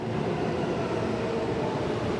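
A New York subway train on the metro, a steady loud rumble and roar of wheels on rails heard from inside the car, continuous and even throughout with no talk.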